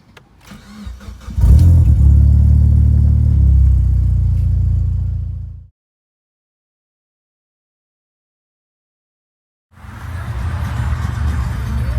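Car engine after an Evox fuel rail and pressure regulator install: a loud, close idle rumble runs about four seconds, then silence, then the engine comes back at the same steady level.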